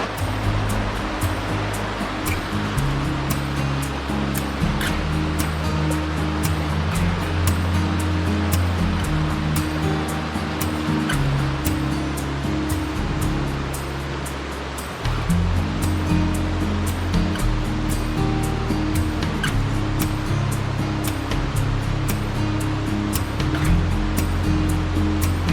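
Floodwaters of Deep Creek in the Smoky Mountains, swollen over its banks across a washed-out trail, roar in a loud, steady, broadband rush that stays close and unbroken throughout, with no voices.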